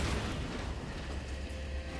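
A big in-game explosion in Path of Exile, cast by a skeleton mage minion witch build, lands as a dense, rumbling roar with a heavy low-end boom that sustains without a break.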